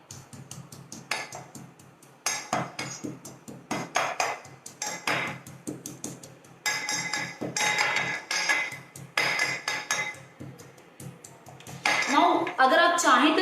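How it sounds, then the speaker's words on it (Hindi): Garlic with chopped green and red chillies is crushed in a home kitchen, giving repeated loud clinking, pounding knocks in bursts with short pauses, and a voice heard faintly near the end. "अब आप लें और उसको आप ऐसे, जैसे हम क्रश करते हैं वैसे क्रश कर लें।"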